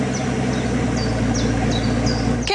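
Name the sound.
Mercedes-Benz S65 AMG Coupe V12 biturbo exhaust idling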